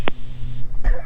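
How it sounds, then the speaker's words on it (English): A single short cough, close and loud, from a pilot in the cockpit of a Beechcraft G58 Baron, over steady engine and cabin drone. "Oh, I had to cough right there when I was talking."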